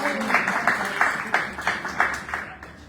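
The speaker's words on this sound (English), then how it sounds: "Everybody clap it up, please, for Stephanie McGraw." Audience applause at a domestic violence awareness panel discussion, a steady crowd clapping with rhythmic swells throughout, fading slightly near the end.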